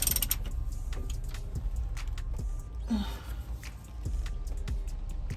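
Metal creaks and ratchet-like clicks sound as a wrench strains against a tight oil drain plug on a Detroit Diesel Series 60 14L engine, close and fairly quiet with a brief squeak midway.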